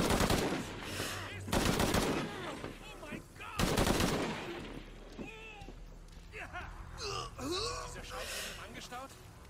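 Gunfire from the video game Shadow of the Tomb Raider crackles in several loud, rapid bursts, interspersed with grunts and gasps, then gives way to quieter game sounds and voices.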